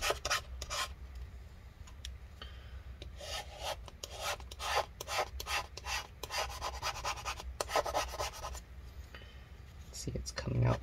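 Adhesive scraped out of a 15-inch Retina MacBook Pro A1398 (mid 2015) during battery replacement, a close, continuous rasping scrape with repeated strokes, loud and steady throughout.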